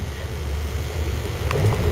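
A boat on Loch Ness motors back toward the dock, a low steady engine rumble mixed with wind buffeting the microphone and water washing nearby, with faint knocks near the end.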